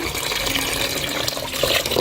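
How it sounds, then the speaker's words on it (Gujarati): Four cups of water poured into a sabudana and grated boiled potato mixture in a kitchen, a loud continuous close splashing stream lasting a couple of seconds. "મેઝરમેન્ટના ચાર કપ મેં પાણી લીધું છે ઉમેરી દઈએ છે"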